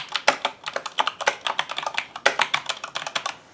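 Fingers type steadily on a Corsair K95 RGB Platinum mechanical keyboard, producing sharp, close, rapid clacks in an uneven rhythm with no voices.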